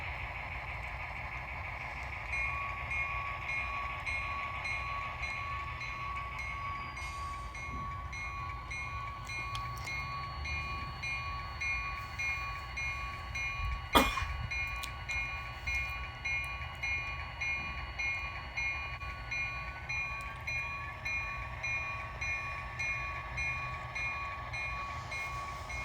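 N scale model train easing a boxcar along a layout toward a loading dock, a steady close mechanical hum with faint clicking and a brief sharp tone midway, no talking.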